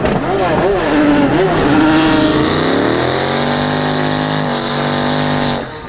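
Rallycross race car with adjusted boost pressures, engine revving hard with rising and falling harmonic sweeps, then holding a steady high drone before cutting off near the end; a voice talks over it.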